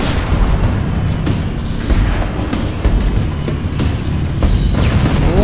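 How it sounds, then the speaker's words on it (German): Fusion reactor explosion in a Halo game on Xbox Series X, loud rumbling booms and bursts layered over a dense low roar, with several heavier blasts punctuating the continuous din, no talking. "Das müsste reichen, um eine unkontrollierte Explosion auszulösen."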